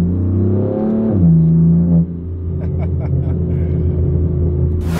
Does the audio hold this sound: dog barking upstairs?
no